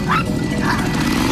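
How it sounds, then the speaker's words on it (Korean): A dog barks excitedly at a motorcycle, sharp yelps over a rumbling engine bed and background noise, lasting briefly. "오토바이가 등장하자 곧바로 짖기 시작하는"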